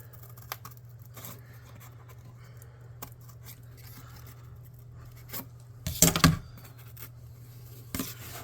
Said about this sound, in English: I'm going to get some scissors. I'm going to cut a little bit of that up